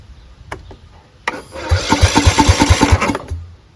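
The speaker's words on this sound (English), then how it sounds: "Let's just see if it'll crank, okay?" A 2006 Husqvarna YTH20F42T 20 hp hydrostatic lawn tractor with a cracked Kohler Courage engine is cranked with the choke on: a loud starter whine with rhythmic chugging compression pulses for about two seconds, without catching.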